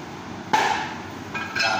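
Cleaver chopping through a lamb neck at a butcher's counter, one sharp loud impact followed by a ringing tail, then a second lighter knock, close and alone without talk.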